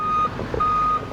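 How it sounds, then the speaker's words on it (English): Reversing alarm on a truck at a flood-hit manufacturing business, beeping steadily at regular intervals over a loud rumbling engine idle, with no talk. "It certainly smells and it's noisy too because of this truck that Pete's supervising."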